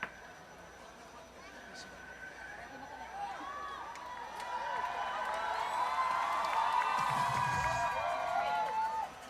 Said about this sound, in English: Oleg being cheered on by the crowd here.